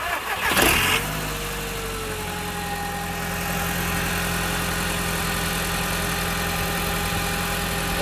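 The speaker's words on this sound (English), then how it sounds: "let's turn the car on, hear what it sounds like stock" An Audi TT MK1 with its stock intake cranks and fires up with a short starter whir, then settles into a steady, fairly loud idle close by, with no talking.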